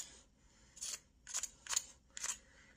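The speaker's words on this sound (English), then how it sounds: "I can really just come with these scissors and do it this way." Scissors snip through cured UV resin on small St. Patrick's Day earrings, making four or five crisp, close cuts at a steady, unhurried pace with quiet pauses between them.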